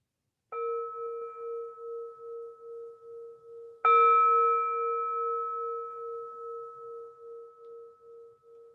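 A meditation gong struck twice, each stroke a clear ringing tone with a long, pulsing decay; the second strike, about three seconds later, is louder and fuller, and both ring on alone with no talk.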